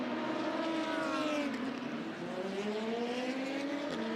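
Race cars at Le Mans, including a Porsche 911 GTR, pass at a distance, their engines rising and falling in long gliding whines that overlap and fade as the cars run away.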